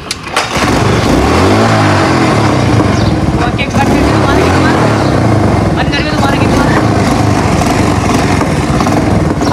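A modified motorcycle, called a Dhoom bike, revs loudly and continuously close by, its engine roaring with rising and falling pitch, while people talk over it.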